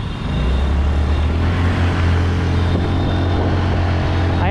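A Honda Activa 5G scooter pulls at full throttle during an off-road test ride, giving a steady, loud low engine drone with wind rush throughout and no talk.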